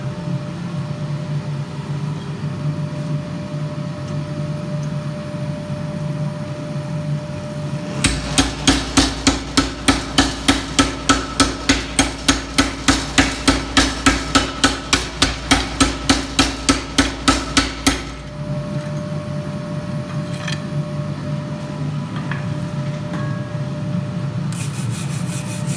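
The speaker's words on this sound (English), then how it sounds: "Using my power hammer," A power hammer with a swage textures a metal bar, pounding out a rapid, steady run of loud, evenly spaced blows for about ten seconds, with a quieter workshop hum before and after.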